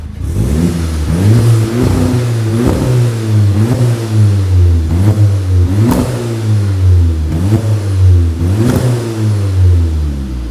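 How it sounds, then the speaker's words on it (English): A Volkswagen Polo GTI engine with a new exhaust revving repeatedly in rhythmic surges, loud and close, each rise and fall giving a deep exhaust tone. "exhaust is on, everything's tightened up, and I'm not gonna lie, it's not the loudest"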